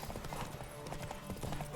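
Horse hooves clip-clop in a rapid drumming rhythm during a horse race in The Witcher 3 video game, steady and close, mixed under faint game sound and talk.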